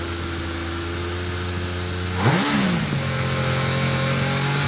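A gold GR55 hillclimb car with a Cosworth 2.5 litre V6 drones steadily at idle, then blips sharply upward in one quick rev before settling back to a higher, even hum, close and fairly loud.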